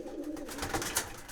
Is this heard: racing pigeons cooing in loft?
yes